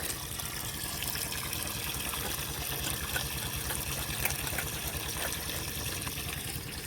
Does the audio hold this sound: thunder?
no